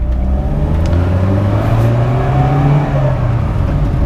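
A 1977 Volkswagen Golf GTI Mk1 engine revving loudly up close, its pitch rising and falling through a couple of throttle blips before it pulls away with a steady, strong drone.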